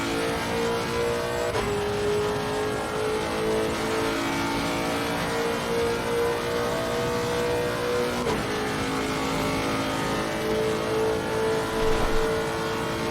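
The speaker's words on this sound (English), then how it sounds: "Oh, that engine sound." A high-revving naturally aspirated V8 race car engine in Assetto Corsa Competizione drones steadily and loudly, its pitch climbing and dropping sharply at a couple of gear shifts, with no talking.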